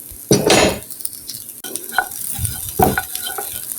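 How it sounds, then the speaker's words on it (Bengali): Vermicelli stirred in a pan while it cooks, a couple of bursts of sizzling with spoon scrapes and light metal clinks against the pan between them. "এটি আমি আর একটু নেড়ে ছেড়ে পাক করে নিব"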